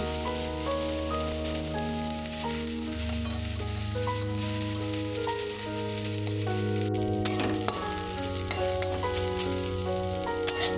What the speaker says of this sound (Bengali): এখানেই সর্ষের ফুলগুলো ভেজে নেব